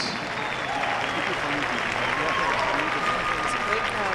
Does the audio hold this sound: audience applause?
yes